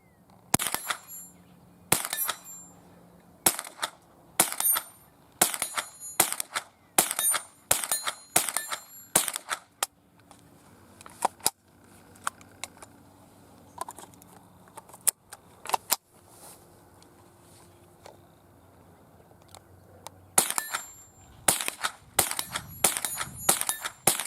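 A string of sharp .22 rifle shots from a Ruger and a Marlin firing CCI Mini-Mag ammunition outdoors, crisp cracks in quick clusters at the start and end with quieter gaps between.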